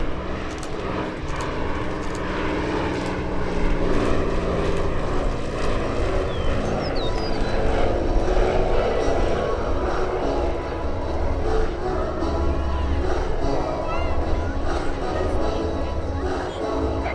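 WWII-era propeller fighter aircraft of the US Air Force Heritage Flight pass over an airshow crowd, a sustained roaring engine drone that swells and fades at a distance, with an announcer's amplified voice over it.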